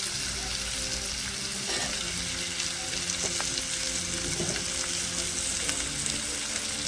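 Onion and green chilli pieces fry in hot oil in a pan, an even, close, crackling sizzle with a few soft stirring taps, steady and fairly quiet, no talking.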